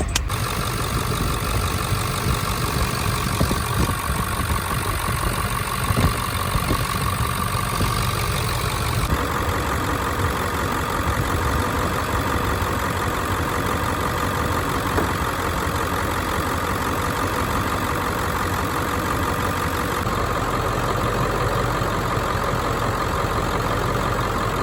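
Truck engine idling, a steady low rumble heard close and continuous for the whole stretch, with no talk over it.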